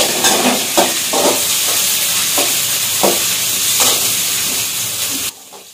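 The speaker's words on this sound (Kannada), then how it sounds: "ಆಮೇಲೆ ಈರುಳ್ಳಿ ಹಾಕ್ತಾ ಇದ್ದೀನಿ. ಫ್ರೈ ಮಾಡ್ಕೊಳ್ಳೋ." Onions sizzle and fry in a pan for an egg curry, a steady loud hiss broken by scraping stir strokes every second or so, ending abruptly near the close.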